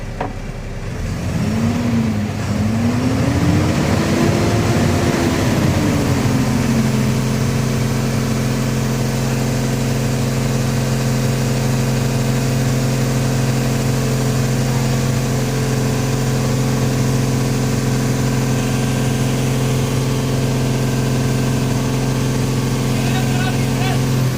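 A Cummins 4830 truck engine idles steadily as it warms up, a continuous low mechanical drone with a brief rising rev early on, running unbroken for the whole stretch while a voice talks intermittently near the start.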